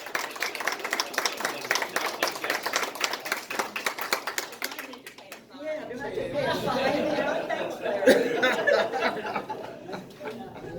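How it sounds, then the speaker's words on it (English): A club meeting audience claps for one of its members, a scattered round of applause in a room for about five seconds, then fading into overlapping chatter and talk. "I think she deserves a round of applause."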